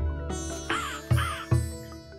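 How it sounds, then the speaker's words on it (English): A crow in the Minecraft video game gives three harsh, nasal caws in quick succession, loud and close against a faint background tone, with no talking. "That's a crow."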